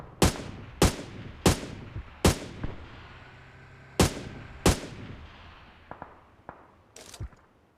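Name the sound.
AUG assault rifle gunfire in the video game PUBG Mobile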